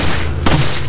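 Gunfire in the PS2 game Resident Evil 4: a single loud, sharp shot lands mid-clip above a steady rumble of game audio, with no talking.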